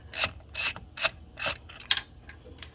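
A ratchet wrench cracks loose a wheel speed sensor bolt on a 2008 Jeep Compass. Close, loud ratcheting clicks come in about five quick, evenly spaced bursts, with a few lighter clicks after them.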